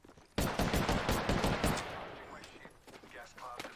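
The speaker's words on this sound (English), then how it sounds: "He's shooting me, bro." Video game gunfire: a sudden burst of rapid automatic shots, loud and close, fading into sparser cracks and echoes, with faint talk in the mix.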